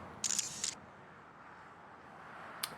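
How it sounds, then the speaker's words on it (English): In a visual novel video game, a cell phone camera shutter fires as a sharp double click, then a single faint click follows a couple of seconds later over quiet background hiss. "This time it was a cell phone shutter sound, not a wheelchair."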